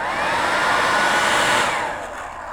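A hair dryer blows loudly and steadily close by, its whirring airflow easing slightly toward the end.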